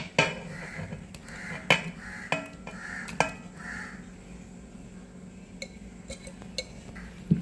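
Sugar, eggs and palkova are stirred in a bowl, giving scattered scraping clinks and taps of a utensil against the bowl, irregular and fairly close, with faint background noise between the strokes.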